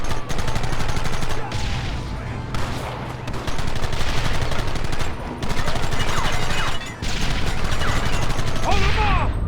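Sustained gunfire in a Red Dead Redemption shootout, dense rapid bursts and machine-gun fire rattling almost continuously for about nine seconds with brief gaps, loud and close, with faint shouting mixed in.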